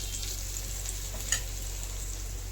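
Onions browning in a pan give a soft, steady sizzle with a low background hum and one faint click partway through.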